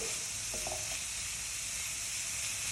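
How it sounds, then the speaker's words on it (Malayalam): Food with turmeric sizzles and fries steadily in a pan in a Kerala home kitchen, a loud continuous hiss throughout, with a few soft scrapes of stirring near the start. "നമുക്ക് നന്നായിട്ട് ഇളക്കി കൊടുക്കാം"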